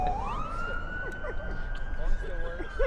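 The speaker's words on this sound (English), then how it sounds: "We got siren going by anyway." A fire truck siren wails steadily as the truck passes outdoors on a windy morning, loud and sustained with rising and falling warble, while people chat nearby.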